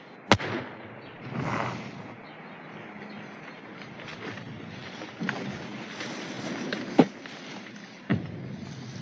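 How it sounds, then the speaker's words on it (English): A grenade goes off during army war games in a sitcom scene: a sharp blast, then lower rumbling and scattered noise, with two more short, sharp bangs near the end. No one speaks. "Grenade!"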